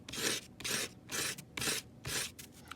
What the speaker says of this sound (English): sandpaper. It doesn't take many passes.